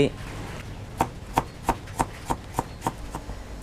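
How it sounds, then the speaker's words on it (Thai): A knife chops lemongrass on a cutting board in a quick, regular run of about ten sharp strikes, close up, with faint speech in the background. "หั่นเป็นชิ้นเล็กๆนะครับ เริ่มจากตะไคร้"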